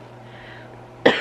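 A single sharp cough from a sick woman, 37 weeks pregnant and ill with COVID. The cough is close and loud and comes suddenly at the end, after a near-silent stretch.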